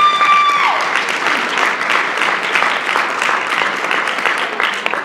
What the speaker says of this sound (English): just give yourselves a round of applause, all the women in here